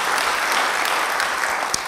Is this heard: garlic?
no